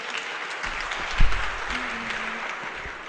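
An audience claps steadily in a lecture hall, a dense and sustained wash of applause at moderate loudness with a brief low thump partway through.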